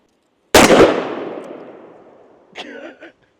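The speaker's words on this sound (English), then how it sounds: "Let's go ahead and take a few more accurate shots." A single loud, close Desert Eagle .50 AE pistol shot cracks out and rings off with a long decaying tail, followed by a brief metallic clang or ping of a hit target about two seconds later.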